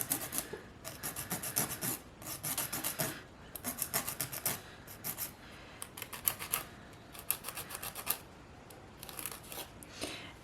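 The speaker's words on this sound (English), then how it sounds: "As long as you have a good grit file and a good file, this portion of filing doesn't take very long." A grit nail file rasping across a fingernail while shaping it, in close, quiet bursts of quick scratchy strokes separated by short pauses.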